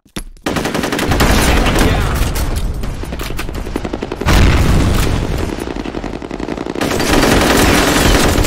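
A grenade blast bursts amid rapid, relentless automatic gunfire in a F.E.A.R. firefight. Dense, loud volleys run almost without pause, and a heavy booming explosion hits about halfway through before the shooting carries on.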